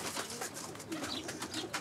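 Pigeons coo softly and steadily against a faint, hissy background, with no voices over them.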